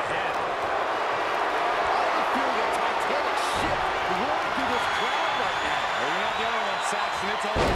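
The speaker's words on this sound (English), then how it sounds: "The sound of this crowd is deafening, and he's asking for more." Wrestling arena crowd in WWE 2K23, a continuous roaring din under commentary voices, with scattered impacts and thuds from the ring.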